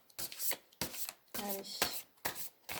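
A large tarot deck is shuffled by hand in several crisp, rustling bursts with short pauses between them, and a voice speaks briefly.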